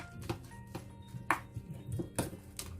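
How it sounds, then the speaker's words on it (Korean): Oysters, carrot, cheongyang chili and enoki mushrooms being stirred together in a bowl for oyster chive pancakes, with soft wet tumbling and several sharper clinks of utensil against the bowl, fairly quiet and close. "당근 청양고추 팽이버섯 이렇게 넣고 이렇게 잘 섞어주세요"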